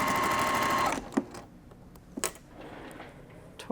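Sewing machine stitching small quilt pieces runs in a fast, steady mechanical chatter for about a second, then stops, followed by a few sharp clicks and handling noises.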